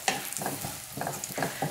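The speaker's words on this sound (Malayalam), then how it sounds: "ഇതെല്ലാം കൂടി നല്ലപോലെ ഒന്ന് മിക്സ് ചെയ്ത് കൊടുക്കാം" A spoon works turmeric and chili powder through lentil curry in a hot pan, giving a few loud scraping strokes over a steady sizzle, with no talk.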